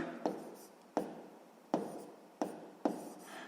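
Quiet, close pen strokes on paper come in five brief scratchy bursts, each beginning with a crisp tap and fading, with no one speaking.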